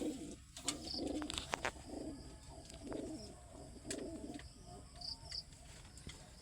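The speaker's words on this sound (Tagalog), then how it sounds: "Nagre-recover kasi tayo ng kalapati natin mga kalapatids" Pigeons in Guiguinto, Bulacan coo softly in low repeated phrases, fairly close, over a steady background with faint chirps and small clicks, no one speaking.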